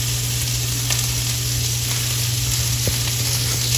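Onions and sausage frying in a pan, a dense steady sizzle close by with a faint low hum underneath and a brief clink near the end, no talking.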